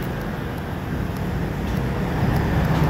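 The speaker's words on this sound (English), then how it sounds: "Lots of noisy traffic." Steady, noisy road traffic rolls along a city street in Taipei, a continuous broadband roar of cars and buses that swells slightly toward the end, with no voices.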